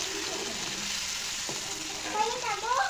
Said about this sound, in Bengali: এখন ওই তেলের মধ্যে ছেড়ে দেবো পেঁয়াজ কাঁচা লঙ্কা